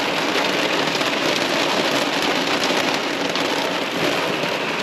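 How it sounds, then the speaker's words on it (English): Heavy rain pours onto the roof of a camper van in Central Otago, a dense, constant hiss of drops drumming overhead, loud and close with no voices. "I've gone from 31 degrees to pouring down with rain"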